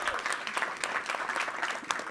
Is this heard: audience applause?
yes